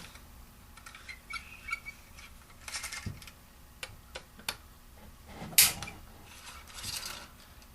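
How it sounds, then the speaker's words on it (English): Screws being backed out of the top rail of a Tiberius Arms T-9, heard as faint, scattered clicks and small mechanical ticks with light creaks over quiet background, no talking. "on top we got 3 screws across the top of this rail. Go ahead and pop all of those."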